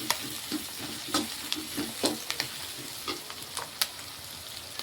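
Onions, mustard seeds, green chillies and curry leaves fry in a pan for prawn thokku, a steady sizzle broken by repeated scraping stirs of a spoon, close and alone.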